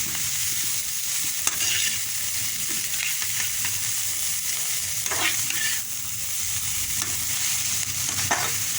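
Sliced onions fry in a pan for a ponnaganti leaf stir-fry, with a continuous close sizzle and occasional scraping stirs of a spatula across the pan, no voices.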